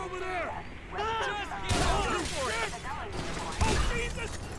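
Shotgun blasts at police in GTA V story mode, several heavy booming shots spaced irregularly through a chaotic firefight, with sirens wailing and a voice talking over the action.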